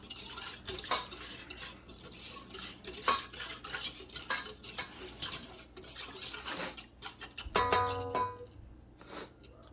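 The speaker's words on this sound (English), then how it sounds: "Just mix that in there a little bit" Spoon or whisk stirring yeast into cake batter in a bowl, a steady run of close scraping and clinking strokes against the sides, with a brief rattle of utensils near the end; no talking.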